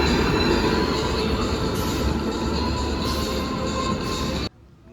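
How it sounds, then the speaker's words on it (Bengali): The Puri–Anand Vihar Nilachal Superfast Express rolls into Jhargram station with a loud, steady rumble of wheels and carriages, a high wheel squeal running through it, close by, before the sound drops off sharply near the end. "পুরী আনন্দ বিহার নীলাচল সুপারফাস্ট এক্সপ্রেস 12875 এখন ঝাড়গ্রাম স্টেশন ঢুকছে"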